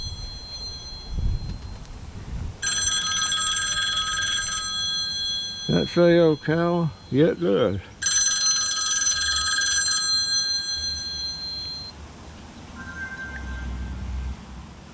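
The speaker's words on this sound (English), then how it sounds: "What the hell was that? Oh, my phone." A mobile phone rings in bursts of bright electronic trilling tones, with a short patterned warble in between, loud and close, while someone speaks briefly in the middle.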